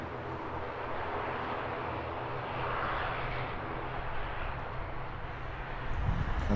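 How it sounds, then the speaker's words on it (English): ATR twin-turboprop airliner engines at Heathrow Airport, a loud continuous roar and drone that holds steady and swells slightly near the end, with no voices over it. "Great sound from those twin props."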